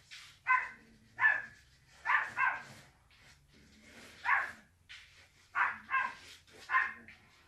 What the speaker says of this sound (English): If they're not barking at me, they're barking at they're usually fighting with a cat or something.